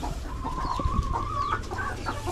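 Hens on a farm clucking close by near their brown eggs, including a broody hen, with a drawn-out nasal call and short clucks over rustling background noise.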